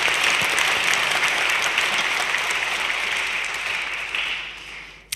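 Broad, steady audience applause after a speech at a NATO strategic concept seminar, a dense wash of clapping that slowly tapers off near the end.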